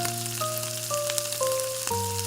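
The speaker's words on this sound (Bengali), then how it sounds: "মাথাগুলো ভাজার সময় এর মধ্যে এক চামচ হলুদ গুঁড়ো দিচ্ছি আর দেব পরিমাণ মতো লবণ দিয়ে" Hilsa fish heads fry in a pan, giving a soft continuous sizzling hiss beneath steady musical tones.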